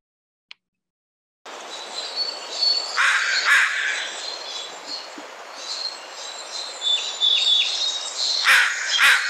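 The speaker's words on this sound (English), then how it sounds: "Crow over here." A crow caws several times outdoors, harsh calls rising out of a steady hiss of ambient noise, fairly close and moderately loud, with no speech.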